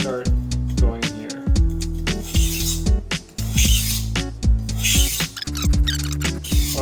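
Cheap knife blade drawn across a gritty sharpening stone in quick rasping strokes, a steady scraping rhythm close up, with a low tonal hum running underneath throughout.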